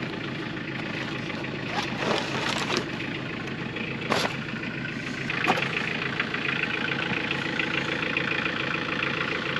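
Cold diesel engine running at a sawmill in freezing weather, a steady low rumble throughout with a few brief louder bursts.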